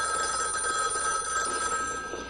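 A telephone bell rings steadily and fairly loudly for the whole stretch, a continuous metallic trill over faint room background with no one speaking.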